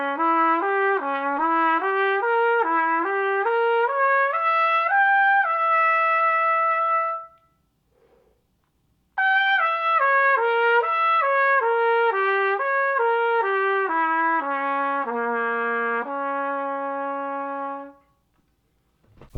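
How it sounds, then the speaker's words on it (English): Solo trumpet plays a broken diminished seventh arpeggio as a slurred exercise, two clean phrases of stepped, climbing and falling notes, each ending on a held tone, with a short silent breath between them. "merely a diminished 7 arpeggio that's broken up."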